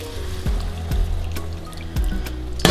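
Warm water is poured into a pan of ogbono soup, a soft trickle and splash over a low kitchen hum, with a few sharp clinks of a utensil against the pan and a louder scrape right at the end.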